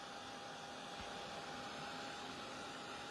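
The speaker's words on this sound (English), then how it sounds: "Now I've got my little lovely heat tool here, and I'm just going to turn this on." A handheld heat gun for embossing a winter card runs with a steady airy whoosh and a thin constant whine, close and even with no talk.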